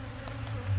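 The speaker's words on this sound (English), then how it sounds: "But I'm not short on bees, so that's a good thing" Honey bees buzz steadily around a hive, a close, continuous droning hum with no talking.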